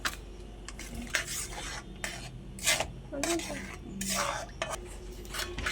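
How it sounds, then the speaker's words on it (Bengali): Milk powder stirred into water with a spoon in a metal vessel, repeated scraping, clinking strokes in an uneven rhythm, close and fairly loud. "দুধ দিয়ে আমি আগে ভালো করে জলের মধ্যে ভালো করে গুলে নেব"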